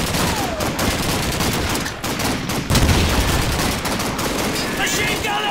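MG42 machine gun in Call of Duty 2's Russian campaign hammers out loud, dense bursts of rapid gunfire, with other weapons crackling alongside in a chaotic battle din.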